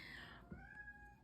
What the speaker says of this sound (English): there my cat goes again